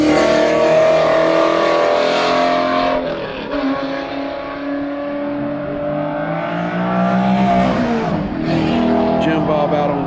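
Several race cars run on the Summit Point track, engines roaring loudly and continuously as they pass and accelerate, with pitch sweeping through shifts and a brief dip mid-way.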